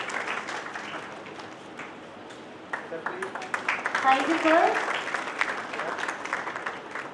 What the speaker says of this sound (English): Please have a huge round of applause for Professor R.V. Singh sir.